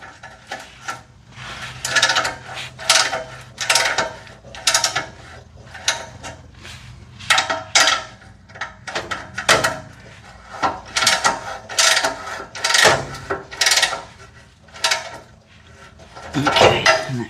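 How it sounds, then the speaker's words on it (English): Ratcheting wrench tightening catalytic converter bolts under a Chevrolet Cobalt, with bursts of rapid clicking broken by metallic clinks and pauses, close and alone. "I'm going to go ahead and grab my wrench"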